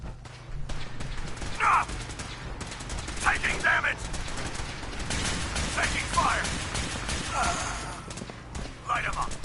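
Fallout 4 gunfire rattles in irregular bursts and single shots over a steady mechanical rumble, with game voices calling out between the volleys.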